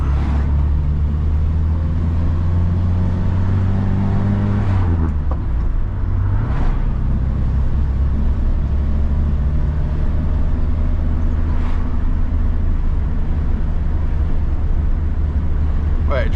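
A Morris Minor, freshly fitted with a new head gasket and still being run in, drives steadily around the block: a loud, continuous engine drone heard from inside, with a gear change and pitch shift around five seconds.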